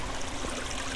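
Flowing water in the block-building game Minetest, a steady rushing, trickling wash that fills the whole second evenly and fairly loudly, with no other sound on top.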